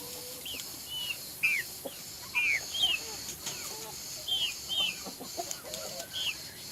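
Hens and young chicks in a coop, a series of short high cheeps and soft clucks repeating irregularly at moderate distance over low background hum.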